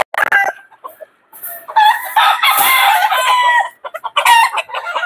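Blueface Hatch gamefowl rooster crowing loudly and close, several long strained crows with short clucking breaks between them, no talk.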